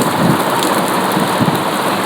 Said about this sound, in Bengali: আমি এটা বাইরেতে ভিডিও করতে পারিনি কারণ অনেক বৃষ্টি হচ্ছিল।